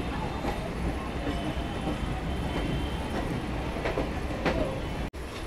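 A Kolkata local train on the Dum Dum to Majerhat line rolls toward Bibadi Bag station, heard from on board as a steady, dense rumble with faint rhythmic clatter, unbroken until a brief dropout near the end.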